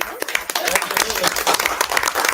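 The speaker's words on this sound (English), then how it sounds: "If we're going to clap, might as well clap for Jacob too" Audience applause fills a board of aldermen meeting room, a dense, steady patter of many hands clapping at close range with voices mixed in throughout.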